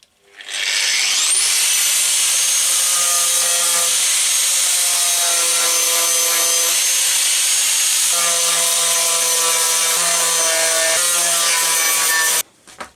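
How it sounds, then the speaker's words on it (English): A power sander grinds continuously and loudly for about twelve seconds, smoothing the welded seam where two wing pieces were joined, its pitch wavering as pressure shifts and then stopping abruptly. "I've welded the two pieces together and sanded it down"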